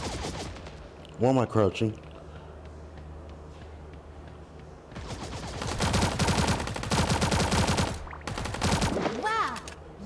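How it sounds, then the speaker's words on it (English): Video game gunfire erupts as sustained rapid automatic bursts in the second half, with a short earlier burst and a player talking over it. "So apparently someone is shooting, but I don't know where."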